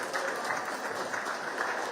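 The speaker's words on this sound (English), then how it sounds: "let's give a round of applause to all the women who have graced us with their presence" Applause from a gala dinner audience honouring women at a Top 40 under 40 Women's Gala, with dense, steady clapping that fills the room at close range and holds constant throughout.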